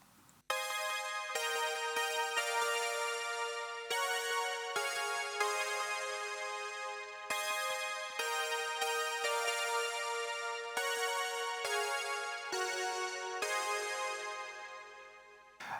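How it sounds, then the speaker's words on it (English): Roland Alpha Juno 2 synth patch playing a bright, bell-like sequence of chords in evenly spaced bursts, each struck sharply and decaying, repeating steadily and alone for about fifteen seconds. "I programmed a sound with my Alpha Juno 2 that sounds like this."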